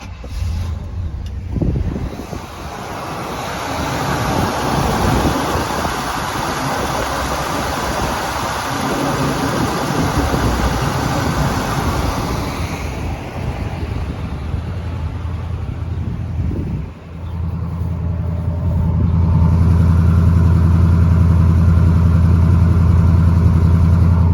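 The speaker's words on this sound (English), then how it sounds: "Where else are you going to see two Pontiac engines running simultaneously?" Two Pontiac V8 engines, a 421 from a 1965 Bonneville and a 455 from a 1971 Grandville, one with dual exhaust, crank and start, then settle into a loud, deep, rumbling idle running together.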